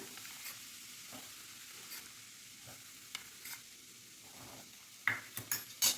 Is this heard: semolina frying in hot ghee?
yes